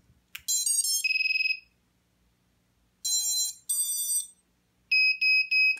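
An FPV drone kit powered on for a test plays its electronic startup tones: a quick run of rising beeps, then two separate beep bursts, and finally three short high tones, all clean and isolated against near silence.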